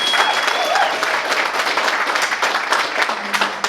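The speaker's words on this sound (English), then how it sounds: "I just want everyone to give a round of applause for Byron and our awesome sound guy, Joe Eri" Steady applause from an audience at a live music event in Idaho Falls, dense and continuous clapping filling the room at close range with a faint voice underneath.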